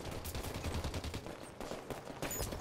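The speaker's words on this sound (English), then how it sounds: "I'm being shot at." Rapid automatic gunfire from a Halo 5 multiplayer match, with bursts of shots rattling in uneven clusters, fairly faint and dense throughout.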